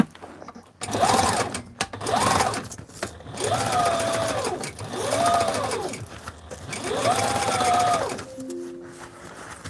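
A Sailrite sewing machine stitches repairs on flight suits, running in five bursts of steady whirring with brief pauses between them, close and fairly loud, with no talk over it.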